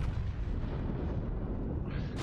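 Battleship guns firing in the World of Warships video game: a heavy, rumbling broadside blast fills the whole stretch with dense low booming, loud and sustained, fading slightly before a brighter burst near the end.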